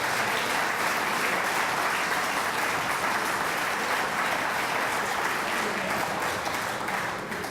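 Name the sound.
audience applause at awards ceremony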